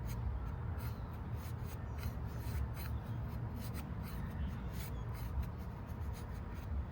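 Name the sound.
knife carving feather sticks from wood, Eafengrow EF149 N690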